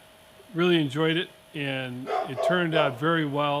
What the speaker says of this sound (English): you can hear my buddy Howie in the background barking